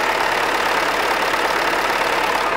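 An MTZ-80 tractor engine runs at a steady idle right after a cold start in frost, a continuous broadband rumble-and-clatter that holds even and close throughout, with no voices.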